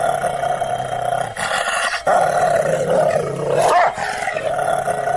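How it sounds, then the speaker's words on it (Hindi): A dog snarls and barks loudly and without letup, a harsh, close, sustained vocal noise with no pauses. "शेरू उसे देखकर बहुत जोर जोर से भौंकने लगा।"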